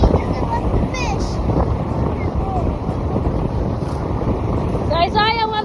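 Strong wind at a Miami beach buffets the microphone in constant low rumbling gusts, while a child and an adult speak briefly over it.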